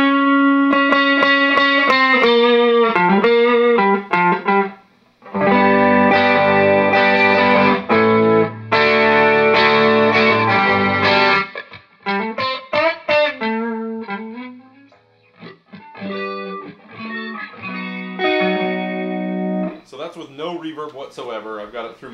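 An electric guitar played through a Trainwreck Liverpool amp, run through effects with the reverb turned to zero, rings out loud and close in bursts of chords and single-note lines, with sustained notes broken by short pauses.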